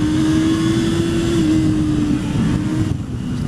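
A car engine drones loud and steady from inside the vehicle during an overtake on the road, a sustained low hum that stays level before easing slightly at the end.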